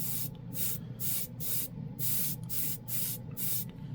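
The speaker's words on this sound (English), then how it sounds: "let's go ahead and spray over the white." Close, steady airbrush work with Airbeast Super Chrome paint, heard as short, crisp hissing sprays repeating about every half second, roughly eight bursts in a row, with no voices.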